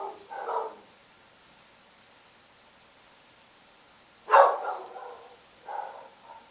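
A dog barks in a couple of short bursts separated by a long quiet gap, then a final softer bark near the end.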